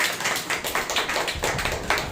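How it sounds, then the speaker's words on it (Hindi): A church congregation at a Wednesday service claps together for a picnic: quick, fairly soft, overlapping hand claps in a steady patter with no talking. "तो एनीवे जोरदार ताली बजा सकते पिकनिक के लिए"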